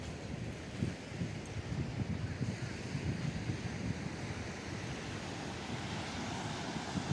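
Surf breaking steadily along the long white-sand Marosi beach in Laboya, West Sumba, a continuous broadband wash with wind rumbling on the microphone and no voices.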